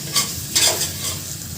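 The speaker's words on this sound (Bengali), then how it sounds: "ডিমটা ভাজা হয়ে গেছে" Egg frying in oil in a pan, a steady crackling sizzle with a few brief louder bursts of spatter, close and alone without talk.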